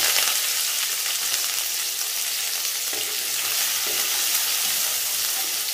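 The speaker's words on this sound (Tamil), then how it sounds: "எண்ணெய் காஞ்சிருச்சு. கடுகு உளுத்தம் பருப்பு, ஒரே ஒரு சிட்டிகை வெந்தயம், கருவேப்பிலை அண்ட் சின்ன வெங்காயம்." Mustard seeds, urad dal, a pinch of fenugreek, curry leaves and small shallots frying in hot oil for a South Indian sambar, giving a steady, close sizzle and crackle with occasional stirring and no talk.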